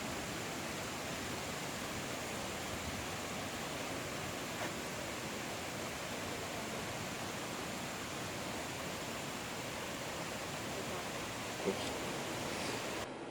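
Twin Falls waterfall and its creek pour steadily into a pool along a hiking trail, a dense, constant broadband rush with no voices over it.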